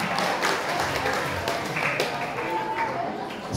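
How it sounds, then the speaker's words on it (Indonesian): A school audience of seventh-grade students at a junior high in Wonogiri applauds after a talk on social media, giving a continuous, moderately loud patter of clapping with some voices mixed in. "Beri tepuk tangan sekali lagi untuk Bapak Agus Rudi Purwanto."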